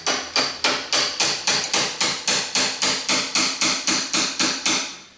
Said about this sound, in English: we're gonna have to hammer and chisel it to tighten it.